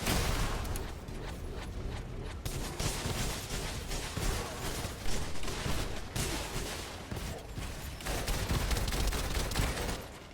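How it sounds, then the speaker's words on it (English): Continuous gunfire from a free-to-play shooter game, a dense barrage of rapid shots and bursts running the whole time at steady loudness, with no talk over it. "I'll just shoot my gun a little bit"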